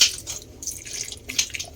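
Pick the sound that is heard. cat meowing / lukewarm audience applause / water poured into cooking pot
water poured into cooking pot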